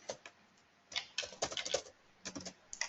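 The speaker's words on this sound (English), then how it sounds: "You just type in your username, your email address, your username, like this, and your own password." Quick bursts of keystrokes on a computer keyboard as a username, email address and password are entered, close and clear, with short pauses between clusters of taps.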